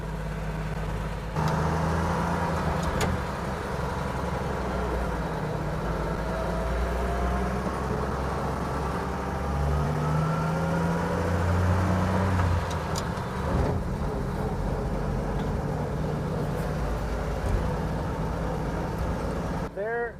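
A car engine idles steadily just after starting, a low rumble with shifting tone throughout, while people talk over it.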